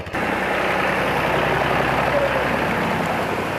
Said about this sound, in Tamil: மக்களை அழைத்து செல்லும் பணிக்காக டிராக்டர் பயன்படுத்தப்படுகிறது